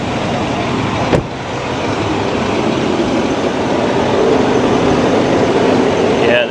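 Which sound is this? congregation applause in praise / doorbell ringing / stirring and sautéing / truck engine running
truck engine running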